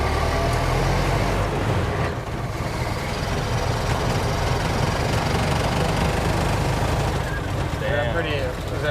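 A 100-year-old Ford Model T with a modern upgrade accelerates at full throttle, a loud, continuous rattling engine roar with road and wind rumble throughout, and people talking over it.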